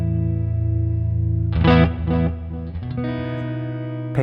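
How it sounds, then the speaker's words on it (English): A clean, sparkly electric guitar through a Neural DSP John Mayer plugin plays a few chords and notes, each one repeating and trailing off in ping-pong delay repeats that ring out on their own. "Let's put the delay on."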